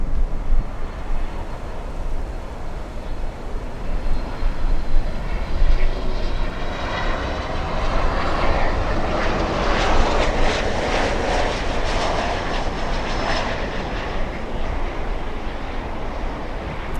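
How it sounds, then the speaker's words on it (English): A Boeing 737 MAX arriving at Miami International Airport gives a steady, broad jet roar that swells as it passes nearby, with a whining engine tone rising over the rumble. "We have a 737 MAX."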